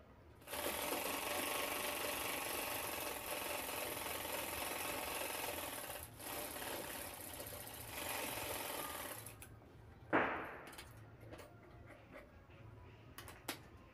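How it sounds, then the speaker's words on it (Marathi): An electric sewing machine stitching handbag lining runs in a long, even whirring burst for about nine seconds, then stops, leaving scattered fabric-handling rustles and a single clack. "हा अस्तरचा पीस जोडून घेणार आहे चारी बाजूनी शिवून."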